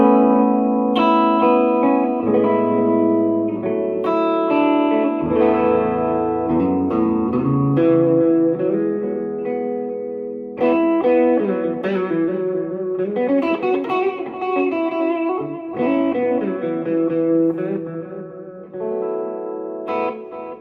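Electric guitar played through delay and reverb effect pedals, with ringing chords and melodic notes trailing into echoing repeats and a wide washed-out ambience, steady and loud throughout.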